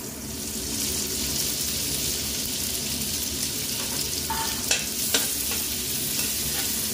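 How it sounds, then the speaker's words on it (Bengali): Gobindobhog rice frying in oil with whole garam masala, a steady close sizzle with a few sharp clinks of a spoon against the pan partway through. "দিয়ে আগে থেকে আমি গোবিন্দভোগ চালকে ধুয়ে জল ঝরিয়ে রেখে দিয়েছি, এগুলো তেলের মধ্যে দিয়ে দেব।"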